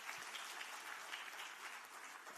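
Steady audience applause for Mr. Narayanan at a nano electronics roadshow and semiconductor conference in India, a dense even patter of many hands at moderate, fairly distant level with no talk over it.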